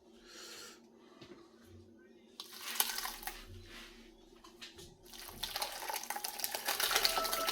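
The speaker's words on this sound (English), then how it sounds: "separate the curds from the whey through the cheesecloth" Whey pours and splashes through cheesecloth as paneer curds are separated, a soft trickle at first that grows into a steady, louder splashing stream of liquid toward the end.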